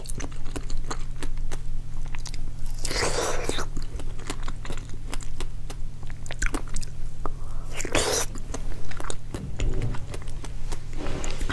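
Close, crisp biting and chewing of a week-old fresh dragon fruit, with moist crunchy mouth sounds repeating throughout, a few louder bites standing out over a steady low hum.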